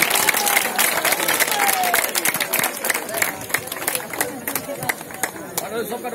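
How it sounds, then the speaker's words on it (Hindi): Applause and crowd noise greeting a guest at a ward ribbon-cutting event, sustained clapping from a gathered audience with chatter and voices mixed in throughout. "जैसे ही फीता को हमारे अतिथि जी काटेंगे ताली से स्वागत कीजिएगा"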